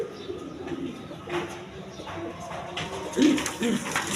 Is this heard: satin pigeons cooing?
yes